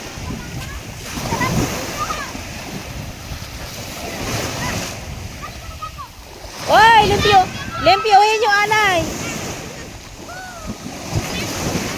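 Ocean waves wash and splash in a steady rush with wind noise, while people talk and call out over the surf.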